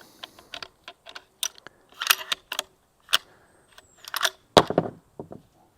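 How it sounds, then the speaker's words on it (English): Shells are cycled through a Tikka T3 bolt-action rifle fitted in an MDT Field Stock chassis, giving quiet, close metallic clicks and sharp clacks in irregular clusters with gaps between strokes. "So I'm going to load my mag just to cycle a couple shells."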